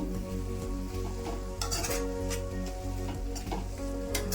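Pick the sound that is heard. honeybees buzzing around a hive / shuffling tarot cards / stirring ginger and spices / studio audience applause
stirring ginger and spices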